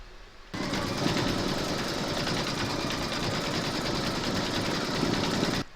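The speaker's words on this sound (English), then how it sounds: "Load your thread colour for the words Santa Santa into your machine, and then stitch round number 5" An embroidery machine stitches a Santa door tag design, its steady rapid needle chatter running loud and unbroken for about five seconds after a quiet start, then stopping abruptly.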